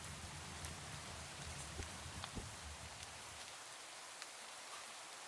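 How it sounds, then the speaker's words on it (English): Rain falls steadily in a Minecraft game world, a soft continuous hiss of many light drops with a few scattered taps, faint and even throughout. "hopefully it will stop raining eventually, because it's broad daylight"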